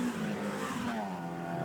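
An Alfa Romeo race car sweeps past at Snetterton, its engine a loud, sustained tone that drops in pitch as it goes by, close and alone.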